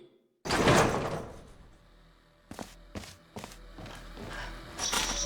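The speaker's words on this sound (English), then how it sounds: "Oh, the door. Let me get that for you." A door in the puzzle game Aperture Tag slides open with a loud mechanical whoosh, followed by several sharp clunks and clicks as it settles, then a rising swell at the end.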